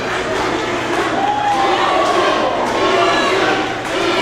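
Wrestling arena crowd cheering loudly for a female wrestler, a dense, sustained roar of voices with shouts rising and falling throughout.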